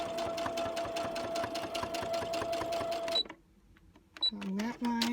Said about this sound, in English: just going to do a real quick stitch